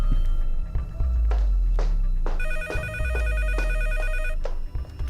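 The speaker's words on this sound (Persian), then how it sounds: "دخترم تلفن جواب بده." A telephone rings with a trilling electronic bell in repeated bursts, loud and close, over some background noise.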